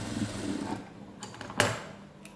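A sewing machine stitching a synthetic blouse runs with a quick mechanical whirr that halts partway, followed by a few sharp clicks close by.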